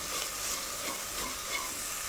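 Ginger and garlic sizzle softly in a pan over a low flame while being stirred, a quiet, even frying hiss with light scraping underneath, close by.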